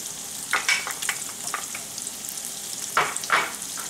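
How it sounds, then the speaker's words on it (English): Chopped onion sizzling in melted butter in a pan for a Thanksgiving dish, a steady hiss broken by a few louder scraping stir strokes. "our butter is melted nice. What we want to do next, just want to add our onion"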